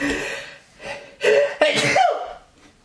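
A single person sneezes close by, a sharp burst after a short intake of breath, loud and alone with no talk over it, during an indoor talk about evaluating visual and media arts teachers.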